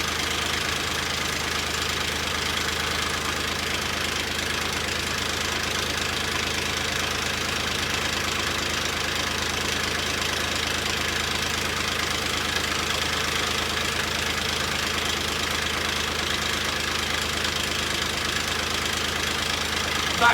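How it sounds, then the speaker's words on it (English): Boat engine running with noise from the gearbox, a steady, dense mechanical drone with a faint knocking rattle that holds unchanged and close throughout, with no talk. "The noise is coming from the box."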